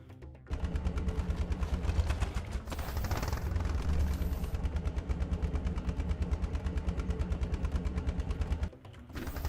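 Engine of a drivable ODST car in Halo 3 Forge, a loud steady buzzing drone with a rapid pulsing rhythm, running almost continuously and alone, briefly dropping at the start and end.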